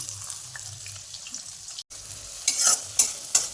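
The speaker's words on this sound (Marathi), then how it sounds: "मी दीड पळी तेल घेतलेलं आहे त्याच्यामध्ये आपण जिरे टाकून घेऊया लगेच कांदा पण टाकून घेऊ" Cumin seeds and onion hit hot oil in a kadhai, a soft steady sizzle with stirring scrapes, then a brief gap followed by a few sharper bursts of crackling near the end.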